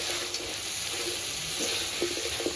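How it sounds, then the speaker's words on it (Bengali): Mutton fries with ginger garlic paste in a pan for a Bihari-style curry, giving a moderate, even sizzle with occasional stirring scrapes and soft clinks, close and without speech. "আদা রসুন বাটাটা দিয়ে ভালো করে মাংসের সঙ্গে আরও কিছুক্ষণ কষিয়ে নিতে হবে।"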